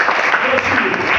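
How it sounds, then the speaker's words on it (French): A church congregation applauding, a short stretch of dense clapping mixed with voices and cheering. "Acclamez très fort"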